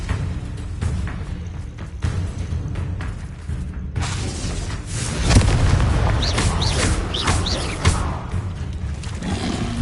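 Bombarda and Confringo spells go off as loud, rumbling magical explosions in the Hogwarts Legacy video game, layered with roaring booms and a steady, dense wash of game effects and music throughout.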